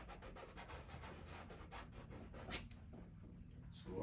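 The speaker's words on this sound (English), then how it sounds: "so I have to rub it out." An eraser rubs back and forth across paper to remove a sketch line, a close, quiet, steady scratchy rubbing that continues for a few seconds.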